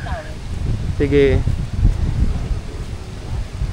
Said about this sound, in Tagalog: hindi tayo nag-mic para dinig na dinig ninyo ang hangin.